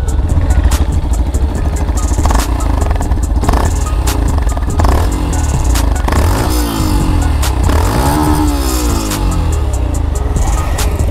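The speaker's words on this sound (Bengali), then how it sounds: "আমি বাইকটার সাউন্ড আপনাদেরকে টেস্ট করাবো" A Yamaha FZS V3 motorcycle sits in neutral, its engine running loud and close, idling roughly with a mechanical clatter, then revved up and down in several rising and falling sweeps.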